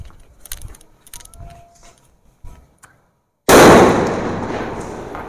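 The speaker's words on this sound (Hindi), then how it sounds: "भाई ये कोक का बिग फॉइल सुतली बम है" A Kok big foil sutli bomb firecracker explodes with a sudden, very loud blast after a few seconds of quiet fuse crackle and small handling ticks, the boom decaying into a long rumbling tail.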